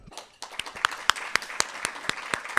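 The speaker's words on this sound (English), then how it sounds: "So I want to give a applaud to all of you" A small audience at a medical residency welcome dinner claps for the incoming internal medicine residents. Distinct individual claps come in a fairly regular rhythm, close and moderately loud, after a brief quiet start.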